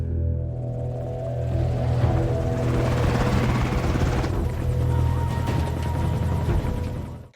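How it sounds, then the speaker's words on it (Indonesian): A helicopter in a film, its rotor thumping in a steady low whir that holds loud and close throughout before cutting off at the very end, with no talk over it. "Sebelum melempar Franz dari helikopter"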